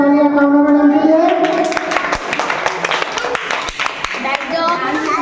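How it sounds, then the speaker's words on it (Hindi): Applause at a school Basant Panchami program as a teacher is welcomed: scattered clapping with sharp individual claps builds after a voice at the start, with children's chatter and talk mixed underneath. "जोरदार तालियां"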